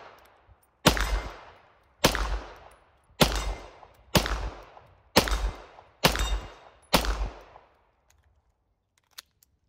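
Seven sharp pistol shots from a Tisas 1911 Night Stalker ring out one after another at a steady pace of roughly one per second, each loud crack followed by a short decaying echo, then near silence.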